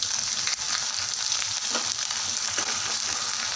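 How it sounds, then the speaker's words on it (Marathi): Leftover masala for stuffed brinjal sizzles steadily in hot tempering oil nearby, a continuous frying hiss with faint stirring scrapes. "शिल्लक राहिलेला मसाला आहे तो मी आता त्यामध्ये फोडणीमध्ये घालून घेत आहे"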